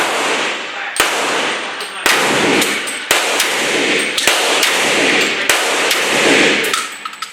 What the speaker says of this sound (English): I'm gonna shoot slowly to get used to this magazine